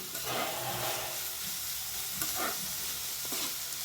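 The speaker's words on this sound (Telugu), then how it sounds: "చక్కగా ఇలా వేయించుకుందాం." Vegetables sizzle and fry in a pan with salt for spicy hotel-style egg fried rice, a steady close crackle with stirring scrapes throughout.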